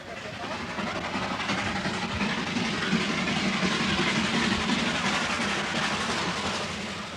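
The Darjeeling Himalayan Railway train runs in the hills with a loud, continuous rumble and rhythmic clatter of the wheels, swelling slightly in the middle and easing toward the end.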